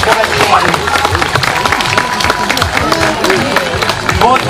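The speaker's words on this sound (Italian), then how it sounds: "Ed eccola la nostra Mazzone, bella, bella, un bel applauso" Crowd applause for a horse rider at a spring village fair, steady clapping and crowd noise throughout with a loudspeaker voice and chatter mixed in.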